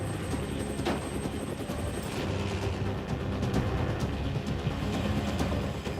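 Helicopter flying during an aerial film shoot in New Zealand, a steady continuous rotor and engine drone that holds at an even level throughout, with no talk.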